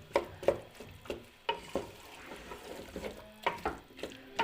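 Spinach and potato curry (aloo palak) is mixed in a pot with repeated close, rhythmic scraping strokes, each one a soft knock over a faint wet sizzle.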